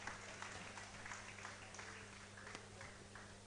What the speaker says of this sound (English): Please jam your hands together for her.